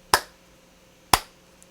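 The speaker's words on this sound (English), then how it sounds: "Slow clap." Two sharp hand claps spaced about a second apart in a slow, deliberate rhythm, close and crisp against a quiet background.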